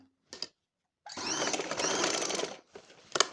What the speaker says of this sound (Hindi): अब इसकी सिलाई बैक ले जानी है पक्का करने के लिए।